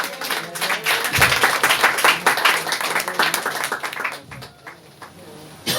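A church congregation applauds through a French-language service, a dense, sustained patter of clapping that fills the room, with voices mingled in and a brief fade near the end.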